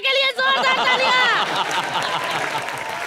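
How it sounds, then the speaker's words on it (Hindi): Television comedy show studio audience clapping and cheering, dense applause mixed with crowd voices and music throughout. "और हमारे धारावी के प्रभु देवा के लिए जोरदार तालियां।"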